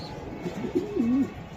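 A racing pigeon gives one soft, low coo, fairly close but quiet over a faint background hiss.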